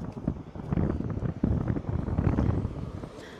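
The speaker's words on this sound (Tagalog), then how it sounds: "Malakas yung hangin." Strong wind buffets the microphone in a continuous low, rumbling roar with gusty surges throughout.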